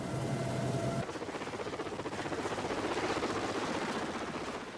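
A helicopter thrums steadily with rapid rotor chop, fairly loud and continuous, with no voices.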